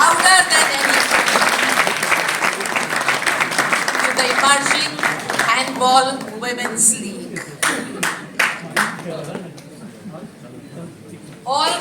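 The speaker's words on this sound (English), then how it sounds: "Big applause," Audience applause rings out at the launch of a women's handball league in India, dense and sustained at first, then thinning into scattered claps as someone speaks over it through a public address system.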